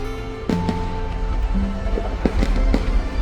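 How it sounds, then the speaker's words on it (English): New Year fireworks bursting over a river in Chiang Mai, Thailand: several sharp pops and crackles over a steady broadband rumble, moderately loud and a little distant, with no talking. "Fireworks burst above the pink river, reflecting off the water"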